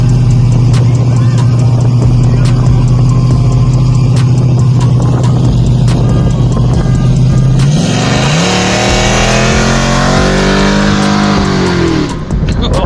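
A car engine held against the brakes for brake boosting, idling with a steady deep drone before revving up sharply into a loud, rising roar, very close.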